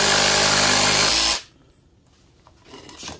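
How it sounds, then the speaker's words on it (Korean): A Makita DJR189 cordless mini cut saw runs loud and close as it cuts through a short piece of wood, a harsh buzzing drone that stops abruptly, leaving quiet handling sounds. "목재를 한번 잘라보도록 하겠습니다."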